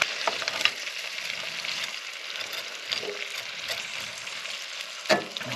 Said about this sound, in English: So add the rice in. We don't need to do much other than just heat this rice up.